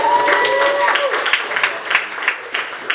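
Stand-up comedy audience applauding and cheering at the end of a set, a dense wash of clapping close by with whoops and voices mixed in, tapering slightly over a few seconds.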